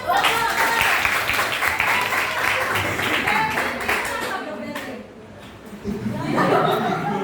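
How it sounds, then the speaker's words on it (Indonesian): A classroom breaks into applause during a geography quiz lesson, clapping mixed with chuckles and chatter from students, loud at first, dipping briefly to near quiet, then swelling again with voices near the end. "Tepuk tangan."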